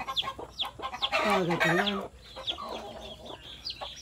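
Nearby, a native hen's low clucks mix with her chicks' shrill peeping, broken briefly by someone talking in the middle before the chirping carries on.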